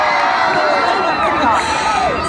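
A large outdoor crowd at the 2015 Plymouth Christmas lights switch-on cheers and shouts, a dense, loud wall of whoops and high voices carrying on without pause.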